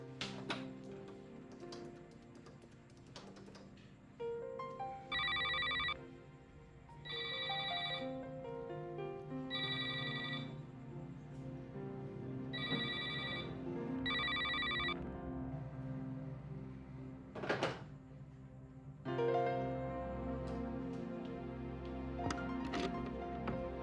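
An electronic telephone rings in repeated short bursts, five rings spaced about two seconds apart, clear over a soft background of music and room sound, with no one speaking.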